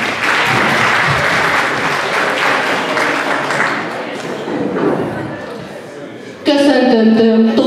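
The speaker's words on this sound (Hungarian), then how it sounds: "egy tapsot, nyugodtan lehet." Audience applause at a kindergarten ceremony in Pécsvárad, steady crowd clapping filling the room for several seconds, with voices mixed in and a sudden louder tonal sound entering near the end.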